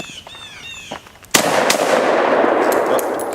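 An AK47-style rifle fires a single sharp, loud shot at close range, followed by a sustained noisy burst that could be the last rounds going off, with no talking.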